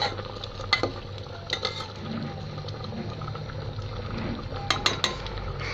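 Yellow rice boiling in a pot while being stirred: a constant bubbling hiss beneath repeated scraping and knocking of a spoon against the pot, close and continuous, with no talking.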